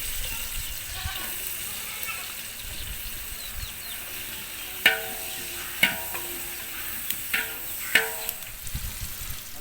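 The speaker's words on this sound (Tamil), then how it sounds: "அப்படியே வெங்காயத்தை அப்படியே பொரிச்சு எடுக்கும்" Sliced onions frying in coconut oil for a village-style chicken biryani, a steady low sizzle under background noise with a few sharp clinks of a stirring utensil against the pot near the end.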